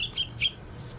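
A week-old hatchling bird chirps twice, thin, high and fairly faint, over a low background rumble with no talking.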